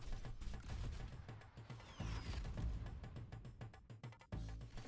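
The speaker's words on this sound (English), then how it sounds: "Artillery." Bastion's artillery ultimate in Overwatch 2 sends a rapid string of booming impacts mixed with mechanical clanks and a brief whistling streak, loud and irregular in rhythm.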